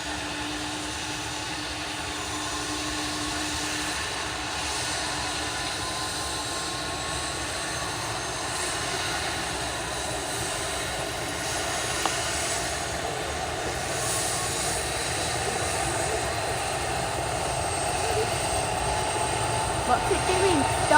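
A helicopter taking off nearby, a steady engine and rotor drone that builds gradually over twenty seconds, with people talking and shouting faintly in the background.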